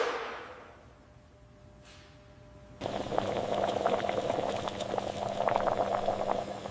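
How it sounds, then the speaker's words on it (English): Steady bubbling and hissing of boiling water in a factory processing line cooking shrimp, quiet at first, then louder and continuous with a low hum beneath. "The shrimp are cooked in precisely controlled boiling water."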